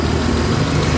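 A rebuilt Mitsubishi Adventure 4G63 engine idles steadily, a close, continuous low rumble with an even mechanical drone and no talking.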